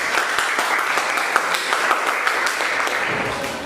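A classroom of students claps together in a steady burst lasting several seconds, close and fairly loud, with individual sharp claps poking through the wash before it starts to thin toward the end.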